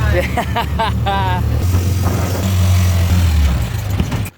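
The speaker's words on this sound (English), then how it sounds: "So this is our speedboat" A speedboat's engine runs steadily at close range on a boat tour in Coron, the Philippines, a continuous low motor drone that starts over a few seconds of talking and then carries on alone.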